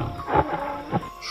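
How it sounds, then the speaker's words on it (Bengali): A tiger's cough used as a sound effect in a Bengali hunting audio story: two short, rough, low bursts, close and loud, with no voices. "বেশ কাছ থেকে একটা বাঘের ভীতিকর কাশির শব্দ শুনলাম"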